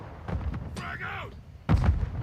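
A frag grenade blast in Call of Duty Modern Warfare II, a sharp, loud boom near the end following a brief burst of in-game sound effects and chatter-like tones earlier on.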